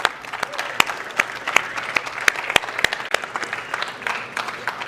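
An audience at a founders and investors pitch event applauds after a startup pitch, steady close clapping from many hands filling the whole stretch at an even, lively rate.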